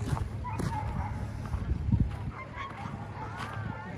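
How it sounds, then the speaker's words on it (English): Sled dogs barking and yelping at the start area of the Willow 300 dog sled race, a scatter of mid-distance barks and honking cries under faint voices and outdoor background noise. "Starting to hear a lot of the dogs barking."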